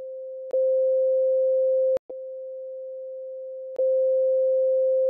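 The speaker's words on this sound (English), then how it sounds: "what if we copied that sine wave and instead of flipping it upside down, we just nudged it" A steady pure electronic tone holds at a single pitch, broken by brief clicks and one short dropout where the sound cuts and resumes.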